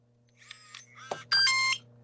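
A Bluetooth RV door lock device on a travel trailer, triggered from a phone app, gives short electronic beeps, ending in a louder sustained tone, over a steady low hum.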